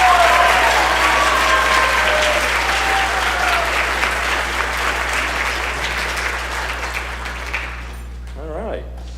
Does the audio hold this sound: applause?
yes